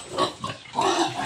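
Pigs grunting and squealing on a Filipino farm where the animals are being sold to a buyer, several close, fairly loud bursts in quick succession with no talk over them.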